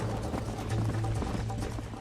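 Horse hooves clip-clop at a steady running rhythm in a Red Dead Redemption story-mode ride, close and continuous for the whole stretch with no talking over them.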